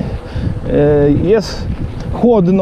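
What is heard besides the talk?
strong wind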